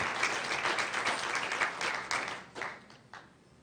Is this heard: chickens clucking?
no